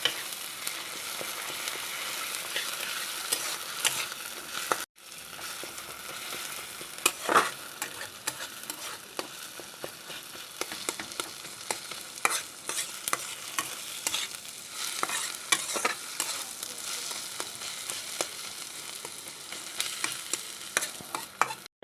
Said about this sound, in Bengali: এখন এই পেস্টের সাথে আমি পেঁয়াজটাকে মিশিয়ে নেব